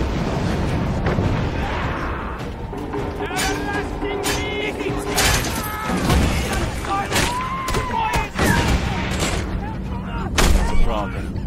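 Gunfire in the Mad Max video game, a string of sharp shots and bursts over a busy mix of engine rumble and game effects, with someone talking over the action.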